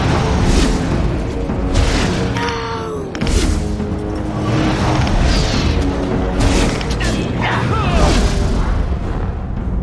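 Fire spells are cast at Darkspawn in Dragon Age: Origins: loud, heavy booming blasts and crashing impacts repeat through the fight with a rumbling, chaotic mix, while a voice speaks briefly over the game sounds.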